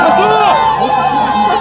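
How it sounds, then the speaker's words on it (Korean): A crowd at a student political rally at Ewha Womans University cheers and shouts loudly and continuously, a dense wash of voices close at hand. "학생들이 처음이라서 용기내어 나온 대학생 그리고 졸업생분들께 큰 응원과 환호를 먼저 보내주시면 감사드립니다."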